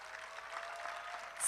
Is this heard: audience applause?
yes